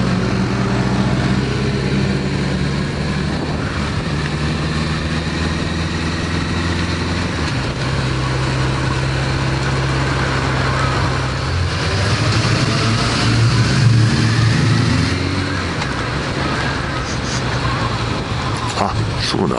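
Vehicles running on the Twin Ring Motegi circuit during a motovloggers' tour, heard as a steady engine drone with a rise in revving partway through, with people talking over it.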